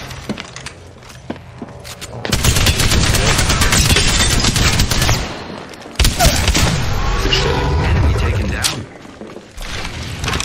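Gunfire in a battle royale video game: rapid automatic bursts and shots crackle loudly and densely for several seconds, pausing briefly, then resuming, with players talking over the action.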